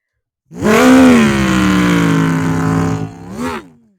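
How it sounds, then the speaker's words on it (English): NASCAR race car engines fire up for a stop-motion Daytona 500 scene, a loud sustained droning roar that starts abruptly, holds steady, then swells briefly before fading out. "Drivers, start your engines!"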